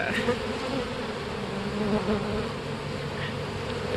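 Honey bees from a huge open hive being inspected fill the air with a dense, steady buzzing drone, close and continuous, with no talking.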